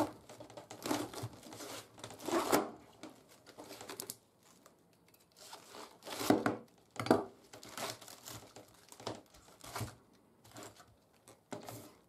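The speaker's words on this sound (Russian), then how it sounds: "Я люблю крупную капусту, поэтому режу крупно." A knife cuts a second, greener head of cabbage into coarse pieces for sauerkraut, giving bursts of crisp crunching and crinkling strokes in irregular clusters with short pauses between, close and moderately loud, with no talking.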